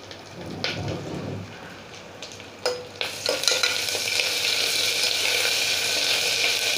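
Bay leaves, cloves and cardamom sizzling in hot oil in a pan, a steady close frying hiss that swells louder partway through after a few clinks and stirring knocks.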